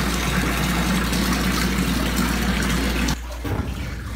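Water gushing steadily from a drained underground utility line, a loud continuous rush over a low engine or pump hum that drops away abruptly near the end.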